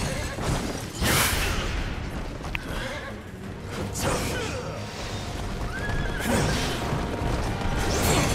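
A horse whinnies repeatedly in the video game Wo Long: Fallen Dynasty, loud shrill neighs over hoof clatter and dense battle noise, rising again near the end.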